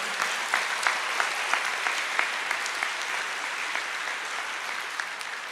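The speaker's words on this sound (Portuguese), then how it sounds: "Vamos aplaudir ao Senhor." Church congregation applauds during a sermon, a steady roomful of clapping with a few sharp, distinct hand claps standing out near the front, no speech over it.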